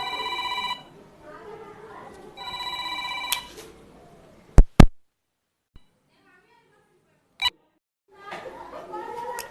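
A telephone rings in two short tonal bursts, with sharp clicks and thumps between them, and a voice murmurs faintly in the background.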